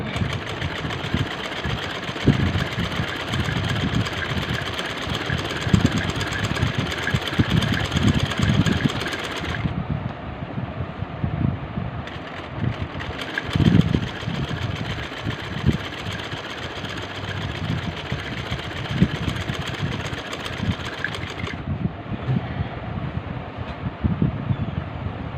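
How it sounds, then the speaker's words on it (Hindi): An electric sewing machine stitches fabric for an angrakha-style frock, its motor running in a close, steady mechanical hum with a rapid needle patter for most of the stretch, with no talking. "एक एक पाँव का मैं कपड़ा छोड़ के इसको चुनटे डालूँगी, सिलाई लगाऊँगी।"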